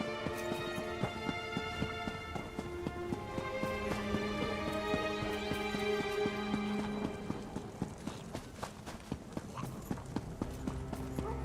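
Horse galloping in The Elder Scrolls Online, a steady clip-clop of hooves running at pace for several seconds, moderately loud, with faint footsteps and no talk over it.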